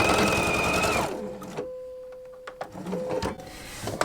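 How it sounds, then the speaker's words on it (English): A quilting sewing machine stitches across a fabric leader to catch the threads, running fast and loud with a steady mechanical whir. It slows and stops after about a second, then gives a few soft clicks and brief restarts. "I'll stitch on a leader here just to grab those threads"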